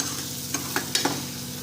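Boiled chickpeas fry in hot oil for Saoji-style tarri, giving a steady close sizzle broken by several quick spoon-scraping stirs.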